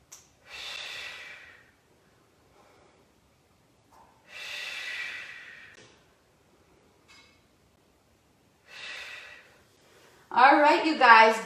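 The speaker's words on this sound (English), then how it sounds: "let's get a few more good solid inhale, exhales to finish up the same way we started." Deep breathing during a Pilates class: three long, audible inhales or exhales spaced a few seconds apart, close and clear against silence, followed by a brief burst of voice at the end.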